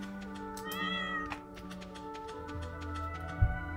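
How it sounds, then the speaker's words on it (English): A cat in the farming game Stardew Valley gives a clear, drawn-out meow over steady game music, followed by a short soft trill. "Cat is being talkative."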